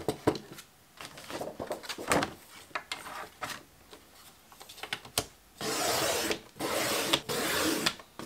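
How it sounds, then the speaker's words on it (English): A paper trimmer slices letter-size paper with scattered clicks and scrapes, followed by two longer rasping swipes of the blade, nearby and without talk. "I'll take you along for the trimming action."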